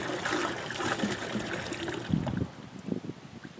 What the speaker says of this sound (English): I'm gonna add in 1 gallon of water into this bucket